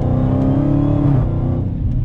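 A 2018 Dodge Challenger SRT Hellcat's supercharged engine roars loudly from close by under hard acceleration, a dense steady growl that shifts slightly in pitch as revs climb.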